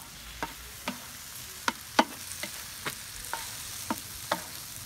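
King crab paella is stir-fried in a pan, with regular spatula scrapes about twice a second over a soft background sizzle.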